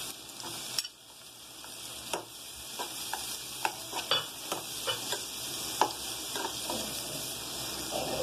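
Capsicum and green chilies fry in oil in a pan, giving a steady sizzle and hiss with a run of sharp stirring clicks and scrapes at an irregular pace, close and without speech.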